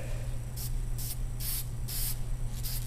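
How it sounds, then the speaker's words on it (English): Short bursts of spray paint hiss from a can applying a light first coat, five quick sprays in a steady rhythm over a constant low background hum. "You're just kind of trying to dust this."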